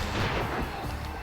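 A fusion rifle fires in the video game Ratchet Deadlocked, a loud, dense burst of blasting energy with a booming, crashing character, sustained briefly before tailing off slightly.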